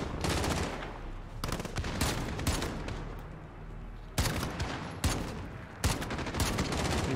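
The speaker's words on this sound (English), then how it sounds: "I hear a lot of bullets" Sustained automatic gunfire in Call of Duty: Modern Warfare (2019), with dense overlapping bursts, brief lulls, and sharp loud volleys near the end.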